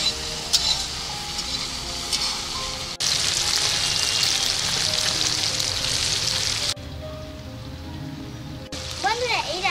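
Chopped onion and tomato fry in oil in a pan for chicken kala bhuna, with a loud, close, continuous sizzle broken by abrupt shifts in level and brief faint sounds from the kitchen.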